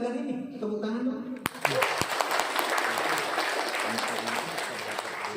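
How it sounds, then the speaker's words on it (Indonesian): Audience applause breaks out after a speaker at a talk asks for it, a dense wash of many hands clapping that follows a moment of speech and carries steadily to the end. "Tepuk tangan dong."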